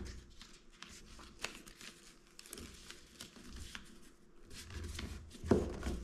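Paper edges being folded by hand while making a 3D paper cube, soft close crinkles and rustles at low volume with a few sharper creases.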